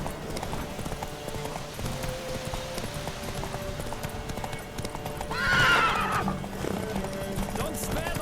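Rapid hoofbeats of a galloping horse in The Witcher 3: Wild Hunt, with a loud whinny partway through, over a steady background of game music and ambience.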